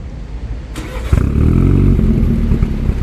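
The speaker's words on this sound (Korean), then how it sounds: "시동 소리도 아주 묵직하게 잘 나오고요" A BMW Z4 20i with an aftermarket mid-pipe and muffler exhaust starts up, with a brief starter whine followed by a loud, deep burst as the engine catches and settles into a steady, heavy, low idle close by.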